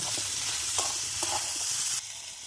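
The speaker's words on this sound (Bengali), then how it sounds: "লঙ্কা রসুন আর আদা বাটাটা এর মধ্যে এবার দিয়ে আমি ভালো করে কষে নেব" Chilli, garlic and ginger paste frying in a pan of oil, with a steady close sizzle and a few soft scraping stirs, the hiss dropping slightly near the end.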